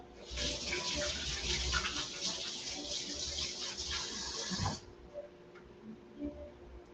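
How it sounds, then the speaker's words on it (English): A kitchen tap runs steadily as hands are washed beneath it, a close, rushing stream of water lasting several seconds before cutting off, leaving quiet room tone with a few faint clicks. "As soon as I wash my hands"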